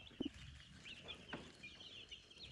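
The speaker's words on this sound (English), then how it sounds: "I want to show y'all the meat chicks that we got." Baby meat chicks peep softly in their enclosure, a couple of faint high chirps and short calls over a low background.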